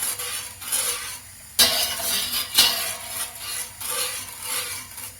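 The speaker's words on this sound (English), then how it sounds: "Just keep stirring it just to make sure that it doesn't stick to the bottom and every bit of it has dissolved." Sugar dissolves in a pot on the heat for fruit tea wine while a spoon stirs and scrapes the bottom, making repeated rhythmic scraping sweeps with a soft sizzle beneath.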